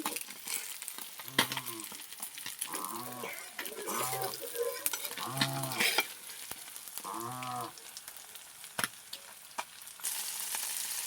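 River fish fry in a hot pan, with a steady, close sizzle throughout. Several drawn-out cow moos sound in the background at intervals.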